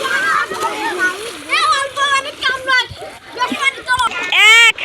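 Children dive and splash in a river on a winter day, with bursts of water splashing mixed into near, lively kids' chatter, calls and a loud shout at the end.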